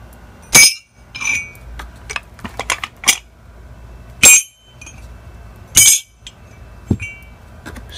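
Generic silver bars are tapped together in a ring test, producing a few bright clinks with short ringing tones. Softer knocks and handling sounds fall between them in a quiet room.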